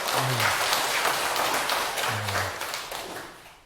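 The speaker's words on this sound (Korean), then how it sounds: "박수 한번 주세요" An audience at a Korean Buddhist Q&A talk gives a steady burst of clapping, moderately loud and continuous, lasting a few seconds before tapering off.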